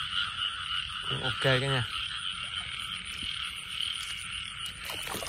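Field frogs croaking at night, a loud nearby burst of rapid, ratcheting croaks rising over a dense, steady chorus of insects and distant frogs, with someone speaking briefly.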